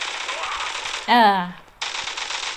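Rapid automatic gunfire in the mobile first-person shooter Zula Mobile sounds as a dense, steady rattle. It breaks off briefly while a voice exclaims, then resumes at the same loud, close level.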